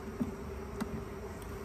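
Honey bees hum steadily around an open hive box during a fall inspection, a soft continuous drone with a few brief louder passes close by.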